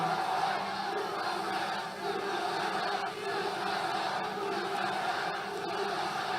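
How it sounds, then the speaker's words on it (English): Thousands of people roar and cheer at an afternoon political rally in North Carolina, a steady loud wash of crowd noise with no pauses throughout. "This is a hell of a crowd for 1:30 in the afternoon."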